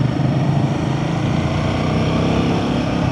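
A Royal Enfield Himalayan 450 motorcycle rolling along in second gear on a relaxed throttle, its engine a steady, even drone that stays close and constant throughout.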